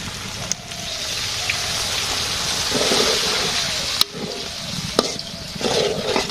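Sizzling cooked meat in a pan as water is poured in, a steady broad hiss with a few sharp crackles and pops, close and continuous throughout.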